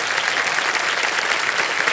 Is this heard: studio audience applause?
yes